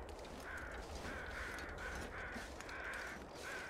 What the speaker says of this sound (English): Go investigate what's up with these crows